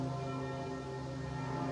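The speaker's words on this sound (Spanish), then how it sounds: "Así sonaban las campanas de Viena a mediodía de hoy para recordar a las víctimas del atentado de ayer en la capital austriaca." Church bells in Vienna ring at midday in remembrance, a sustained, faint resonant tone held steady for under two seconds with no voices.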